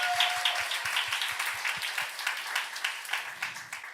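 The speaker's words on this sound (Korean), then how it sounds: "박수 한번 주세요" Applause from a church youth service congregation, a sustained patter of many hands clapping at moderate level, with a few low thumps early on and a faint voice briefly at the end.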